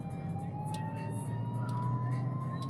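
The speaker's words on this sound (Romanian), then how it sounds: "Ambulanță undeva, nu văd" A faint ambulance siren wails in the distance under steady traffic and engine noise, heard from inside a driving car, barely rising above the road rumble.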